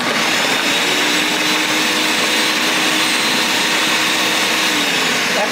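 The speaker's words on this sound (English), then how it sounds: "Now, we can start putting stuff in, chopping it up in the food processor." A food processor whirs steadily while chopping and crushing three garlic cloves, a loud continuous motor drone with a gritty, buzzing texture that holds evenly throughout, with no voices over it.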